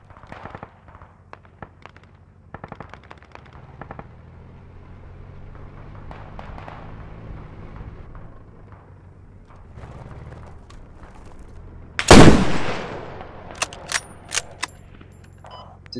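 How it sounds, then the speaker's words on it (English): Gunfire in a tactical shooter video game, with a sharp loud burst of shots near the end following quieter clicks, soft rumble and scattered taps. "We shot literally at the same guy."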